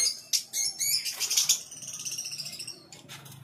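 Pet birds in a large open cage flutter and flap their wings in quick bursts, with sharp chirps and tweets mixed in, close and fairly loud throughout.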